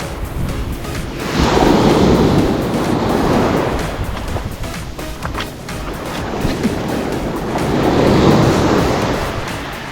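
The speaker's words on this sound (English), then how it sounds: "Now windy day today." Steady wind gusting by the shore, rising and falling in broad swells with surf washing beneath, no voices.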